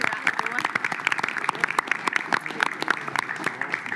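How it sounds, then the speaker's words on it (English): Audience applauding a departing Kapahaka group at a council meeting, steady dense clapping that runs the whole time with sharp individual claps standing out. "Give them a round of applause as they disappear out the door."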